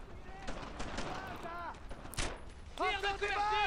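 Gunfire from Brothers in Arms: Earned in Blood pops and cracks in scattered shots under overlapping voices, with one sharp report standing out near the middle.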